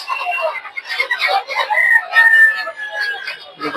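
Farm chickens at a busy poultry market in Tongi, a dense jumble of clucking and squawking from many birds close by, with indistinct voices mixed in.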